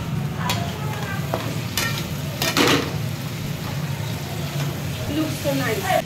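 Paneer and chickpeas fry in a spiced masala with a continuous loud sizzle, broken by a few sharp clinks of a utensil on the pan, while a voice talks over it.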